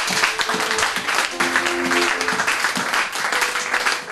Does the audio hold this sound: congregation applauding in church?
yes